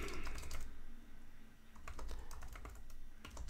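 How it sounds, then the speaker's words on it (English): Fingers type on a computer keyboard, entering text in all caps, a close burst of rapid clicking keystrokes with a brief pause in the middle before the tapping resumes. "I'm gonna go type in all caps"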